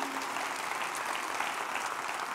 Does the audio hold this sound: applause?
yes